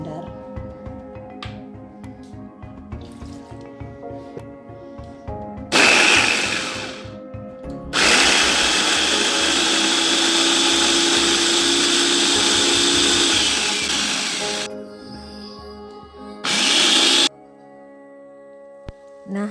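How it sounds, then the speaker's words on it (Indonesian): A kitchen blender grinds spices with added water for a Palembang pineapple chicken opor, loud motor bursts running a few seconds each with a long steady whir in the middle, after quieter kitchen sounds. "Kita blender jadi satu."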